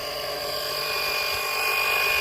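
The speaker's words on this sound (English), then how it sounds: "The pump is just a 12-volt pump." A small 12-volt electric pump, powered by a lawnmower battery, draws oil out of a Sea-Doo RXP, giving a steady high-pitched motor whine that holds constant throughout.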